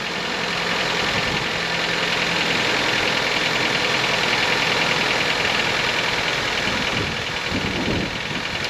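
A car engine idles steadily at a battery test, a continuous mid-pitched rumble with a faint knocking vibration running unbroken throughout, close and fairly loud with no talk.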